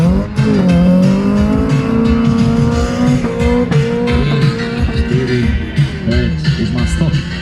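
A Fiat accelerating hard in a 200-metre sprint at a race and tuning day in Tekovský Hrádok: a loud, rising engine note with quick gear changes and brief tyre noise, heard close up.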